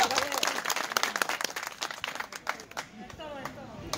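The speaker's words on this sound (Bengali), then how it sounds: "সবাই সুমনের জন্য আরেকটা করতালি দেন" An audience at a casual gathering applauds a singer about to perform, with scattered, uneven clapping that swells then thins out, while a voice talks over it.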